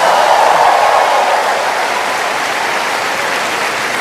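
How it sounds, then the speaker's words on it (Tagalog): A church congregation at a healing prayer service claps steadily, a dense, even wash of applause that stays loud for about four seconds with no voices on top. "Ang hina ng palakpak nyo."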